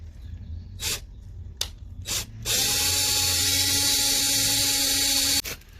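A power drill bores into a metal door, starting with a few short bursts and then running in one steady, loud, high whirring grind for about three seconds before it stops, with no talking.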